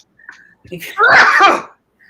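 A loud, close sneeze erupts after a few faint breaths and small vocal sounds, with brief quiet voices before and after.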